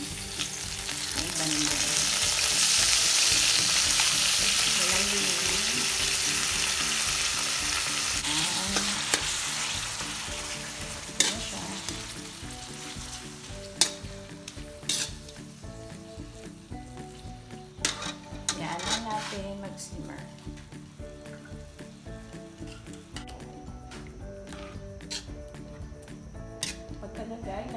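Garlic sizzles steadily in a hot pan while being stirred, with loud frying that slowly fades, scattered utensil taps and scrapes on the pan, and brief speech partway through.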